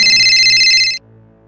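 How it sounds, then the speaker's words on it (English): A telephone rings in one warbling electronic burst lasting about a second, then cuts off, leaving a faint low hum. "the phone rings."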